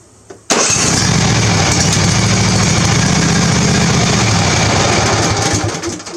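A zero-turn mower with a custom exhaust and the muffler fitted starts abruptly and runs loud and steady. The engine drones close by at a constant pitch for several seconds and dips slightly near the end.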